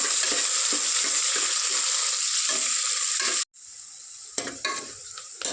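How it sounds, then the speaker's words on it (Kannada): Sliced onions and curry leaves frying in hot oil give a steady close sizzle with rhythmic stirring scrapes, cut off by a short break, after which the frying returns a little quieter with a few clinks. "ಈರುಳ್ಳಿ ಕಲರ್ಫುಲ್ಲು ಚೇಂಜ್ ಆಗಬೇಕು ಅಲ್ಲಿವರೆಗೂ ಫ್ರೈ ಮಾಡ್ಕೋಬೇಕು"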